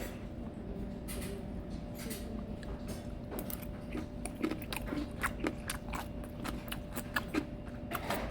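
Fermented skate (hongeo) being eaten at a Korean country-style restaurant in Gwangju, with soft crunchy bites and chewing clicks repeating close by over quiet background noise, growing more frequent toward the end.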